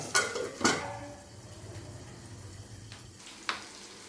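A lid clanks down onto a pan of stuffed bitter gourds cooking in masala. Two close metallic knocks come at the start, followed by a soft simmering hiss and one more faint clink near the end.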